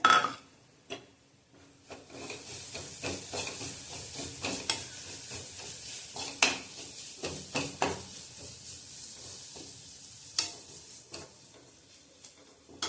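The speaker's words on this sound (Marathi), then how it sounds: "आता हे सगळं आधी तेलात आपण जिन्नस भाजून घेऊया" Chili powder, turmeric and masala spices roasting in hot oil for an eggplant and potato curry give off a low, quiet sizzle, broken by scattered light spatula taps and scrapes.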